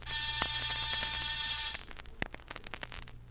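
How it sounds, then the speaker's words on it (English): An apartment door buzzer sounding in a continuous harsh electric buzz for under two seconds, then cutting off into faint clicks and rustling. "I rang one buzzer."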